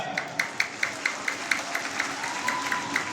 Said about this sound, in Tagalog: Parang mahina ang palakpak mo.